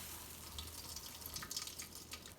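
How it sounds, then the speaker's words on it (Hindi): Starchy water squeezed out of grated raw potatoes through a cloth, making a faint, continuous trickle and patter of liquid running and dripping, with no talking. "आलूओं का सारा पानी ना हमने इस तरह निचोड़ कर निकाल लेना है।"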